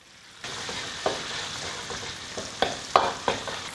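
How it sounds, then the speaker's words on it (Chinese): Sichuan doubanjiang bean paste stir-fries in a wok over spices in a little oil, a constant sizzle broken by several sharp spatula scrapes and knocks, close and moderately loud, with no talking. "再来上一点四川豆瓣，"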